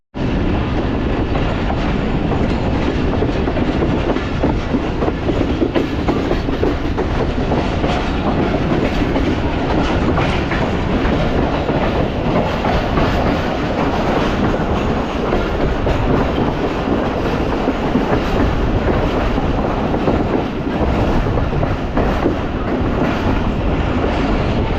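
A Pakistan Express passenger train runs on rails between Rawalpindi and Dina, with a loud, steady rumble and rhythmic clickety-clack of wheels that continues unbroken throughout, with no voices.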